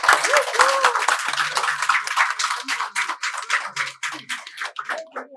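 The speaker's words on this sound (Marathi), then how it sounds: "जोरदार टाळ्या होऊ देत जरा." An audience at a home Ganpati decoration contest prize ceremony applauds in a lively, uneven burst of clapping, loud and close, with some voices mixed in.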